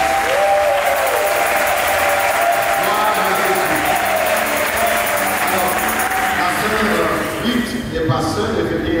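Guests at a religious wedding ceremony clap and cheer loudly and continuously, a dense crowd sound with voices mixed in that thins slightly near the end.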